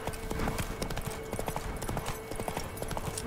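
Roach the horse galloping in The Witcher 3, with a quick, continuous clip-clop of hooves heard fairly close and steady for the few seconds.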